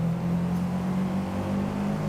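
A damaged car engine in Forza Motorsport drones with a steady, wavering hum as its revs fluctuate unevenly, heard briefly and at moderate volume.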